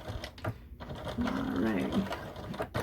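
A domestic sewing machine stitches fabric for a fanny pack (belt bag) at stitch length 3.0 with back stitching, giving a short steady whirr in the middle of the clip; a voice speaks briefly.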